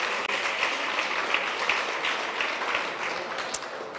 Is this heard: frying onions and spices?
no